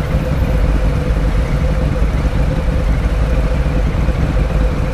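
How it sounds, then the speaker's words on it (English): A Harley-Davidson Softail Heritage motorcycle engine idles at roughly 900 RPM with a loud, steady low rumbling throb that stays even and close for the whole stretch. "Looks like it idles around 900 RPMs roughly"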